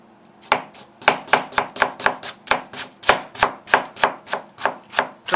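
A knife dices tomatoes on a cutting board in a home kitchen, giving a steady run of about twenty sharp, evenly spaced chops, close and clear with no talking.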